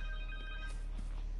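In the Spider-Man 2 video game, a cell phone rings with a bright electronic tone pattern for under a second, then fades into ambient game noise, with no talking.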